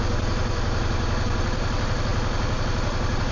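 A Yamaha V-Star 650 motorcycle engine idles steadily after its idle was lowered, a continuous close throbbing rumble with an even low pulse and no voices.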